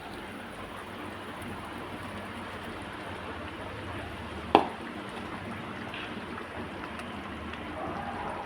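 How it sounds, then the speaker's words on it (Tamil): Vada curry kuzhambu with chana dal and a ground paste boiling in a pot: a steady, soft bubbling hiss throughout, with one brief sharp clink partway through. "நல்லா கொதிச்சிருச்சு."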